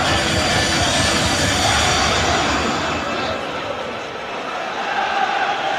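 Large football stadium crowd at a Derby County home match against Manchester United, a dense steady roar of many voices filling the ground, with a commentator talking over it.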